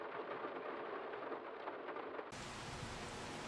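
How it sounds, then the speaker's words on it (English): Steady rain hisses throughout in a logging roleplay video game, a broadband wash that abruptly brightens and thickens partway through, with no talking. "it's still raining even though it's forecasted to stop really soon"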